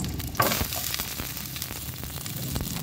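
Onion and garlic frying in a little oil for a Filipino vegetable soup. The sizzle is close and crackling, with a sharp burst early as the ingredients hit the pan, then settles into an uneven spatter.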